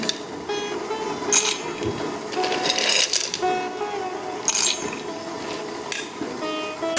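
Peanuts ground with water into a paste in an electric kitchen grinder, making a steady whirring motor drone with wet churning and brief rattling surges throughout.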